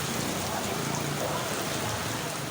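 Heavy rain pours down in Karachi, a dense, constant roaring hiss of falling water that stays loud and unbroken throughout.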